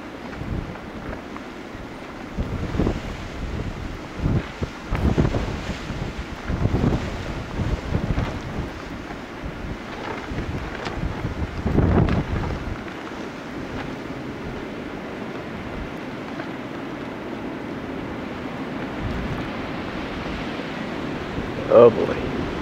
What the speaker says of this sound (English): That's easily a 50-mile-an-hour wind gust.